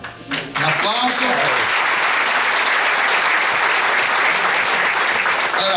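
A voice ends at the start, then a local community audience breaks into loud, sustained applause for the presenter, a thick, even roar of clapping that holds for about five seconds.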